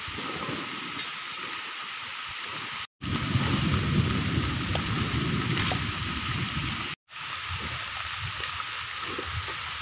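Heavy rain pours down steadily during palm fruit loading in a storm, a loud continuous hiss with deep rumbles of thunder, broken twice by short silent cuts.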